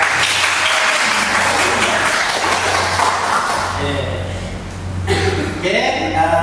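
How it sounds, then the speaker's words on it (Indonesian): Audience applause after a talk on careers in artificial intelligence, a loud dense wash of clapping that carries on steadily, with voices rising through it toward the end. "Oke, berikan tepuk tangan"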